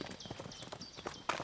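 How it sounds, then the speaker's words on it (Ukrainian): Rhythmic horse hooves clip-clopping at moderate distance, with a brief sharper knock near the end. "Десь коні ржуть"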